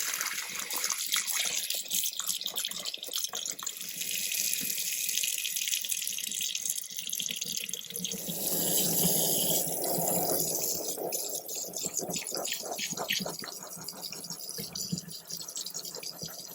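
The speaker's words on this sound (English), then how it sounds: "get warm running water, and I'll just massage it under the water" Warm water runs steadily from a tap for a long stretch while something is massaged under the stream, the flow shifting in tone as it splashes over hands and fabric, with no talk.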